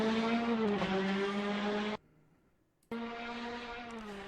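A Caterham 420R race car drives up to the finish line at Snetterton 300 with a loud, steady engine drone. The sound cuts out for about a second, then resumes just as strong.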